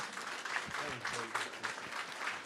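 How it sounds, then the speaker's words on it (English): Applause for volunteers at a public hearing in Kent, Caroline and Queen Anne's Counties, a moderate crowd clapping steadily with voices talking and calling out over it. "Round of applause for the volunteers."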